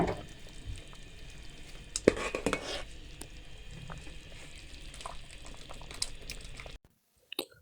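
Chicken corn soup is ladled from a pot into a bowl with quiet liquid splashes and scraping clinks over a low background hiss, before cutting to near silence at the end.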